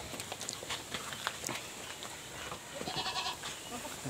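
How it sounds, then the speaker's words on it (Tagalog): Goats on a farm bleat faintly in the distance, one short call rising near the end, amid rustling and light shuffling noises, quiet overall. "Ito yung kambing natin na isa."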